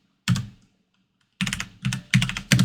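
Computer keyboard typing while drafting a mechanical drawing: one sharp keystroke cluster, a pause, then four quick loud key presses in a row, close up.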